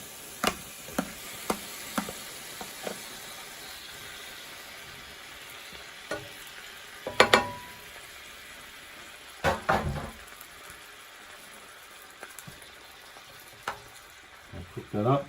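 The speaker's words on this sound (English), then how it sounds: "Sizzling along now, very good." Steady sizzling of seafood for fettuccine in a frying pan, with scattered sharp clicks and scrapes of a utensil stirring throughout.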